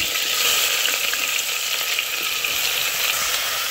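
Onion, green chili and fennel seeds sizzle loudly in hot oil, a dense continuous close-up frying hiss with light stirring scrapes, no voice over it.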